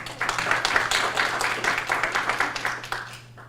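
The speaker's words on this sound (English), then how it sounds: "Please give him a round of applause." Audience at a live business event clapping to welcome a former Intel CEO back to the stage, a brisk, moderately loud round of individual claps that thins and fades out by the end.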